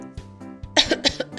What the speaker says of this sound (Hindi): इतने में बड़ी ने थोड़ा खांसा।